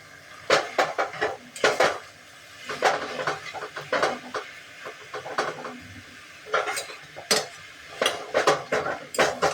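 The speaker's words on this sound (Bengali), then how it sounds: "আদা বাটা হলুদ গুঁড়ো ধনে জিরে গুঁড়ো এগুলো দিয়ে প্রথমে নাড়তে থাকবো" Spoon scraping and clattering in a pan while ginger paste, turmeric, coriander and cumin powder are stirred for banana-flower ghonto cooked without oil, a steady run of close metallic scrapes and knocks with no talking.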